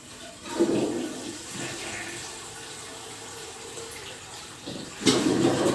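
Water gushes steadily from a repaired water tank, a continuous rushing flow that swells louder near the start and again toward the end, with faint voices in the background.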